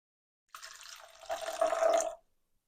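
Water poured into a container for soap making, a steady close splashing stream lasting under two seconds that grows fuller and louder toward the end before stopping abruptly.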